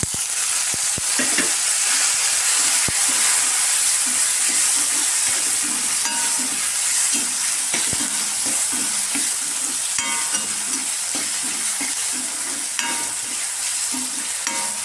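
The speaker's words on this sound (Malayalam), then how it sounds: "അപ്പം ഞാൻ തക്കാളി ഇട്ട് കൊടുക്കുകയാണ്." Tomatoes go into onions sautéing in a pan, a steady close sizzle with repeated spatula scrapes and stirring clinks, and no talking.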